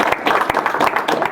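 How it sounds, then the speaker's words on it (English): Brief burst of dense applause from an audience at a preparedness class honoring a presenter, loud and close, with overlapping claps forming a continuous wash throughout. "let's give him a round of applause"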